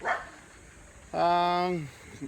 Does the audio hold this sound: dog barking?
yes